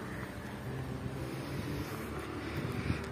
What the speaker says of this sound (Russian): Погода, ну, ветрено.